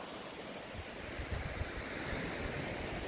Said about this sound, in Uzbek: Bu Sinduri dengiz qirg'og'i